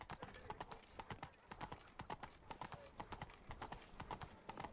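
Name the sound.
hooves of the horse Roach galloping in video game Witcher 3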